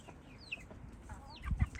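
Chickens in a flock, with small chicks being introduced, give soft clucks and a few higher chirps, faint and close, with some low thumps of movement toward the end and no talking.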